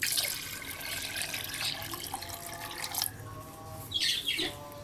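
Water is poured into a bowl of kadhi pakora batter, a steady close splashing flow that swells and ebbs, with faint bird chirps in the background and no talking.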